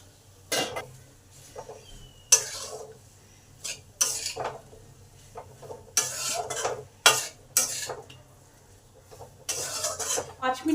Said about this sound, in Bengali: ভালো করে এইভাবে কষে নেব যাতে মশলার কাঁচা গন্ধটা চলে যায়। এই সময় বেগুনগুলোও দিয়ে দেবো।